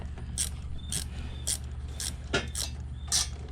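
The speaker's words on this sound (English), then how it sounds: "13mm ratchet wrench." A 13mm ratchet wrench cranking on header bolts during a Pontiac G8 header and exhaust install, giving about six regular clicking bursts at an even rhythm over a low background hum.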